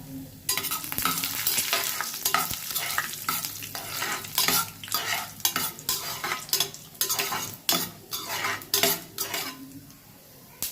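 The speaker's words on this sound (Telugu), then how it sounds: "ముందుగా మనం కట్ చేసుకున్న జీడిపప్పు బ్రౌన్ కలర్లో రోస్ట్ చేసుకోవాలండి." Chopped cashews roast in hot ghee in a pan, with a soft sizzle under repeated scraping and clinking of a metal spoon stirring against the pan, no talking.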